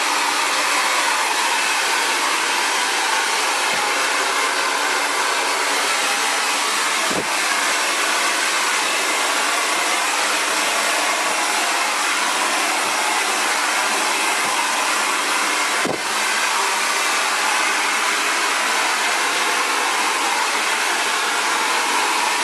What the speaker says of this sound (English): this is the first blow dryer that I feel really gets the job done.